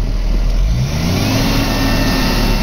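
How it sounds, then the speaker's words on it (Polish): Fendt 820 Vario TMS tractor engine running steadily at close range, a loud continuous mid-pitched drone with a constant high whine above it, no voices. "Posłuchaj, jak pracuje silnik."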